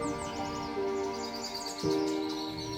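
Songbirds call along a tree line at Point Pelee National Park during spring migration, with several thin chirps and whistles over a steady hum, faint and at a distance.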